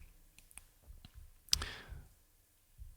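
A handful of quiet computer mouse clicks in music production software while an Arturia spring reverb plugin is opened, with scattered soft taps and one sharper, louder click midway.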